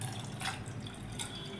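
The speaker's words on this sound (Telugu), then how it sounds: "ఇప్పుడు కొన్ని నీళ్లు పోసుకుందాం" Water poured steadily onto washed toor dal in a pot, a soft continuous splashing trickle heard close and fairly quiet.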